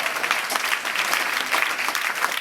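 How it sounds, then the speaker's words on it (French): Children and a congregation at a Palm Sunday children's Mass clap hard and fast, a loud, continuous burst of applause with no speech over it. "Applaudissons très très très fort"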